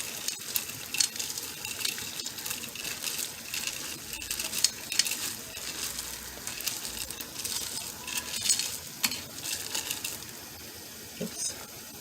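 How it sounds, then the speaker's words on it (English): Melting chocolate stirred with a fork or whisk, giving soft wet swirling and light metallic clicks against the bowl at close range, with brief quiet talk. "I'm going to begin with a fork or a whisk and just turning it."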